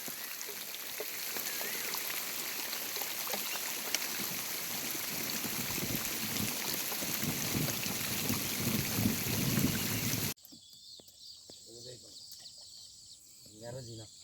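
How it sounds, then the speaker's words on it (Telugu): Dense, steady hiss of heavy rain for about ten seconds, then it cuts to a quieter scene with faint talking. "అద్భుతంగా వర్షం పడుతుంది చూడండి"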